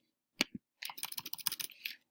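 Quick bursts of keystrokes on a computer keyboard as a search is entered, a couple of isolated taps followed by a rapid run of clicks, close and clear.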